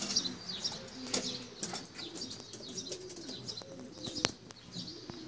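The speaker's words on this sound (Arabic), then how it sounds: "هذا هو ما تبقى من الحمام" Racing pigeons back from a 440 km race, cooing and chirping close by, with wing flaps and soft clatter over a faint outdoor background.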